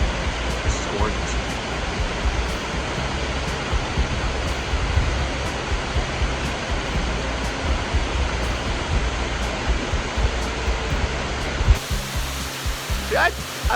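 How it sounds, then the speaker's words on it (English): A waterfall roars in a continuous, dense rush of noise, loud and steady throughout, heard close from a hiking trail. "I think that's a waterfall. It's rocking."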